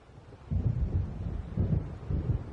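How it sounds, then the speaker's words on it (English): Low, rumbling thunder from an approaching storm in the video game Alan Wake, rolling in several heavy swells over a quieter windy hiss, fairly near and without any voices. "It seems there's a storm coming."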